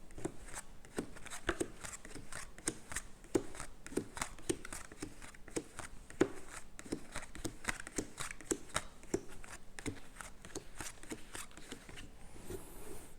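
Tarot cards shuffled and dealt out during a fortune-telling reading, a steady run of soft, close riffling snaps and flicks that keeps going throughout with no talking.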